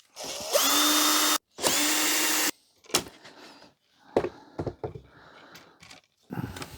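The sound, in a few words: power drill removing screws from HP LaserJet 3P printer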